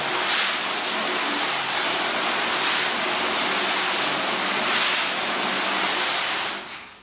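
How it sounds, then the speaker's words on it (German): A garden hose set to a hard jet sprays water onto a car's coated surface, a loud, steady broadband hiss and splash that holds for several seconds before easing off at the end. "Wir gehen jetzt weiter und holen mal unseren Schlauch."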